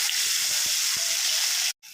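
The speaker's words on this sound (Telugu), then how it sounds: "ఎండు చేపలు అయితే ఆయిల్లో వేసుకున్నాం" Dried fish frying in turmeric-tinged oil, a steady close sizzle with faint scraping, cutting out abruptly near the end before a brief return.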